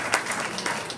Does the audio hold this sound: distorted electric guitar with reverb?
no